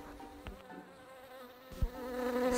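Buzzing bees chase a hunter in a cartoon fable, a steady insect drone with a few soft knocks, rising a little louder toward the end.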